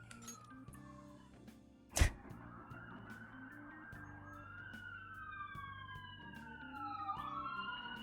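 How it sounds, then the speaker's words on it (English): Police sirens wail and sweep in pitch at a distance, growing steadily over a low background with a sharp knock partway through, no talk. "Oh, sirens."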